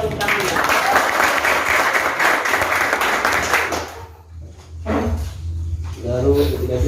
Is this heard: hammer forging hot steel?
no